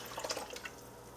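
Water poured into a 6-quart Crock-Pot slow cooker, a short, soft splashing trickle that fades within about a second.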